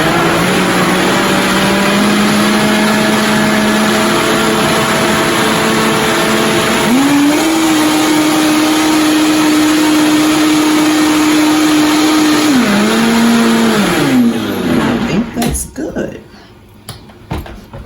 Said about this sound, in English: fresh spaghetti sauce straight from the oven into the blender.